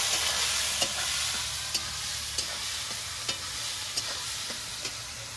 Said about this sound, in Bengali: পেঁয়াজটাকে একটু নেড়ে চেড়ে লাল লাল করে ভেজে নেব।